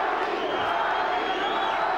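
Hometown arena crowd in Albuquerque at a New Mexico state university venue chants for champion Johnny Tapia during his IBF/WBO junior bantamweight title fight against Rodolfo Blanco, a continuous, massed roar of many voices filling the hall.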